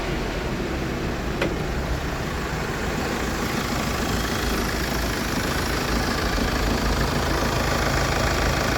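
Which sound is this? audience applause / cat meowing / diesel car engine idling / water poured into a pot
diesel car engine idling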